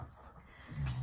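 A playful puppy wanting to play whimpers softly, a faint, close whine that swells into a louder, higher whimper near the end, with no talking.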